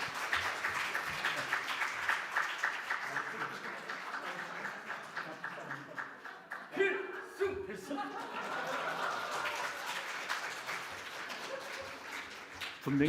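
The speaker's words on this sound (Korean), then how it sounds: "박수 해주세요" A church congregation claps in a steady wash of applause during a Sunday service, mixed with scattered chuckles and someone speaking.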